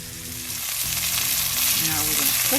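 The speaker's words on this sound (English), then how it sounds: "we are going to sear the meat" Beef short ribs searing in a hot pan, a loud close sizzle that swells and grows more intense over a few seconds, with faint crackling.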